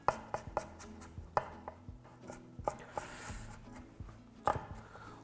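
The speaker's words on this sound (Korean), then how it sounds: "연근을 좀 썰어줄게요" A knife chops lotus root on a cutting board in a series of crisp, close knocks at an irregular rhythm, with brief pauses between cuts and no talking.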